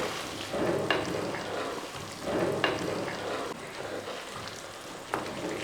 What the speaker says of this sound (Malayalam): ഇനി അതൊന്ന് ഇളക്കി കൊടുക്കുക